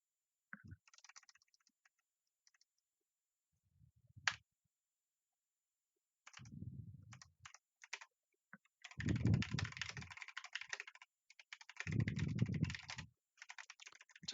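Quiet keystrokes tap on a computer keyboard in scattered short bursts, then faster runs of typing, close and soft in an otherwise silent room.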